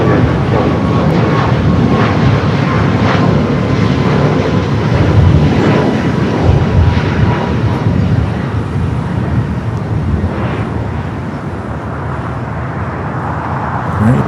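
A United Boeing 737 MAX 9 jet takes off at LAX bound for SFO, making a loud, steady engine roar and rumble that fades slightly near the end, with no speech.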